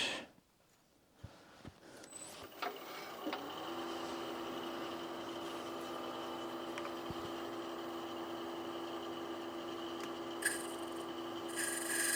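A small wooden toothpick holder made from a branch offcut chamfered by hand, a steady continuous rasping rub lasting several seconds after a few light knocks, close and moderate in level.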